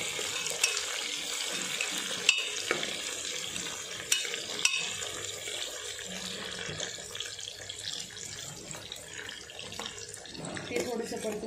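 Cut green chili sautés in a pan with peanuts, giving a soft, wet sizzle with occasional sharp clicks of a utensil, moderately close and uneven in level.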